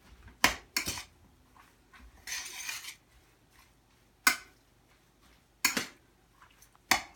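Ingredients being mixed together in a bowl, a series of sharp clinks and scrapes of a utensil against the bowl, spaced irregularly and close by, with no talk.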